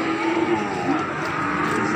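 A cow, a Limousin at a cattle market, moos at length, a near, steady low call rising over a busy market din with no talk.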